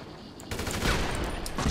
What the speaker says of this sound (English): I mean, I'm shooting them with an AK-47.